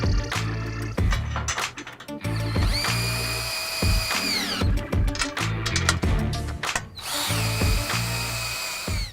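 A cordless drill drives screws into a steel ladder-stand skid assembly in repeated loud whirring bursts with rising and falling pitch, separated by short pauses.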